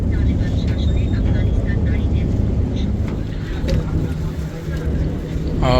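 A passenger launch travels along a river near Barisal, Bangladesh, in cold winter weather, its steady low engine rumble and water wash continuous and fairly loud throughout, with faint voices in the background.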